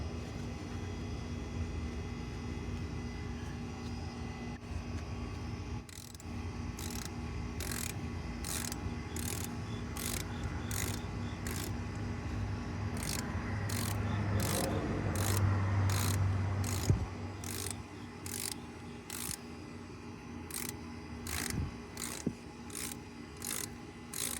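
A ratchet tightening the fuel filter on a Mercedes W211 E320 Bluetec diesel (OM642), heard as repeated quick clicking bursts of ratcheting over a steady low hum, fairly close and fairly quiet, with a rubbing sound partway through.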